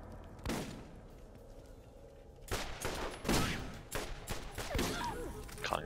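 Assault rifle gunfire in the Borderlands video game: a few sharp, separate shots ring out at moderate volume against a quiet game background, with spaces between bursts.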